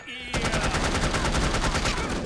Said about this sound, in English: I'm reloading in a firefight.